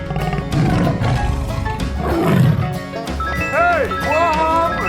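A tiger in a 3D animal video game lets out loud roaring calls amid busy game sounds, followed by bright chiming electronic tones near the end.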